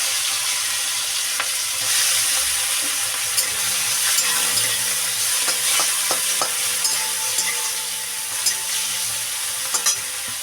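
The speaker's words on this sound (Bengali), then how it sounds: "দেখো আমার চিংড়ি মাছগুলো ভাজা হয়ে গেছে" Prawns frying in mustard oil with turmeric in a pan, a loud steady sizzle with scattered scraping and clicking from stirring, close up and with no talking.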